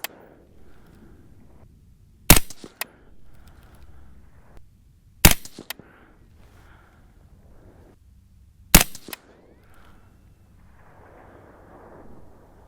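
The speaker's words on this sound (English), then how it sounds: "let's stay behind the gun and keep shooting at this point" Three sharp, loud rifle shots from a Uintah Precision UPR15 in .223 Rem firing 77-grain Sierra loads, spaced several seconds apart at a shooting bench, each a crisp crack with a brief echo over a quiet outdoor background.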